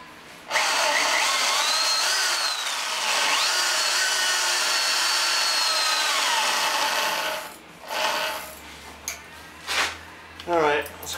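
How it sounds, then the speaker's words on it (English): A power drill bores holes in wood for a large screen elevator build, its high whining motor running loud and continuous for several seconds, then stopping into short scraping bursts. "We're going to go ahead and drill those."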